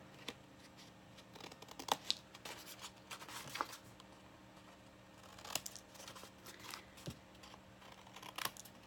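Sharp Cricut scissors snip through paper in a quiet room, a series of soft, irregular clicks and short crisp cuts close by, faint and scattered across several seconds.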